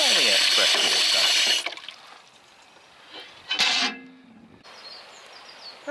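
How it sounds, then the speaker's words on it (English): Fresh water gushes loudly from a ballcock-valve trough on a countryside walk, a strong broadband rush for about a second and a half before dropping away, with a second brief burst of flow shortly after. "you just press the bullcock down and you get fresh water"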